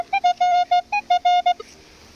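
Minelab X-Terra Pro metal detector sweeping a forest floor, giving a run of about ten short, sharp high-pitched tones in quick rhythm, clear and close, with no voices.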